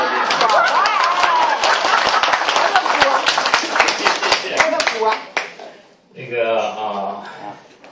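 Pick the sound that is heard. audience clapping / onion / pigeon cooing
audience clapping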